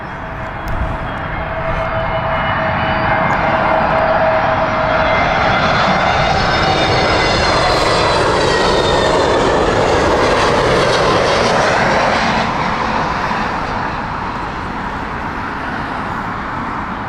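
A British Airways Boeing 777 arrives at Heathrow, its engine roar building loud and close with a rising whine, then fading slightly as it passes.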